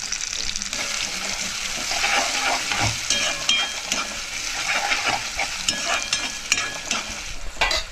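Onion and tomato frying in a pan, with a steady close sizzle and scraping stirs throughout, no talking.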